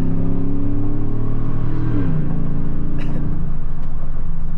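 A GMC Sierra pickup with a Carven exhaust, downshifted into second, gives a loud steady low engine drone that rises in pitch partway through, heard alone from inside the cab.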